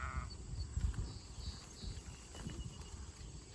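Ewes and a lamb bleat in a farm flock at sunset, with short, fairly faint calls rising over low outdoor rumble and shuffling near the start and middle.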